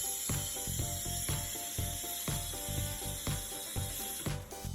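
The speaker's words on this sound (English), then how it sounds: "A special machine is used to pack lubricating material into containers for further distribution." A special machine packs lubricating material into containers, giving a regular mechanical clatter with a ratcheting, clicking rhythm repeating about once a second over a constant hum, with no voices.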